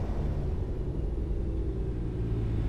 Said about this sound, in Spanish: Les digo que hay bastante tráfico